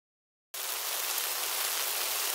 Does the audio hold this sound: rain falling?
yes